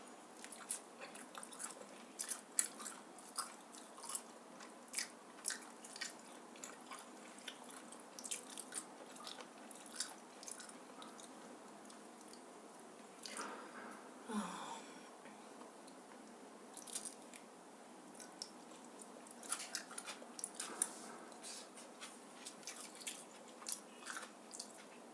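Soft, wet chewing and biting of buttery naan dipped in sauce, close and quiet, with irregular small crunches and squishes spread across a long stretch without speech.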